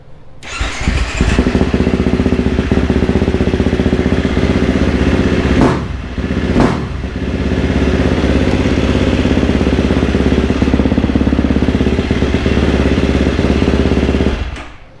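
A KTM 350SX-F dirt bike, being converted from supercross to desert racing and fitted with a big desert tank, runs close and loud with a steady, clattering idle, briefly dipping twice near the middle before settling back into a constant drone.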